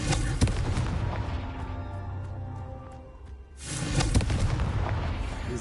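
A Confringo blasting spell in Hogwarts Legacy sets off booming explosions, a heavy rumbling blast and crackle that fades into a quieter ringing tail before another burst of loud booms.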